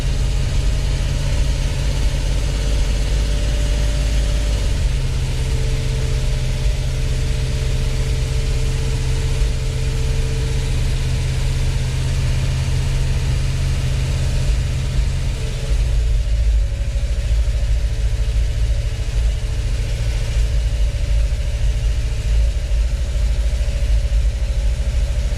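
A 1976 Ford Cobra II with a manual choke idles steadily, a close, continuous low rumble with a brief dip in the middle, with no talking.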